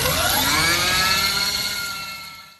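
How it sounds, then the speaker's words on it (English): A Harley-Davidson LiveWire electric motorcycle spins its rear tyre in a burnout, a loud rising electric-motor whine with tyre hiss that holds steady, then fades out at the end. "he's going to do a little silent burnout for us"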